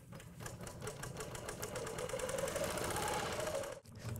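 A Bernina long arm quilting machine stitches at a steady rapid rhythm, its fast even clatter close and continuous before cutting out briefly near the end.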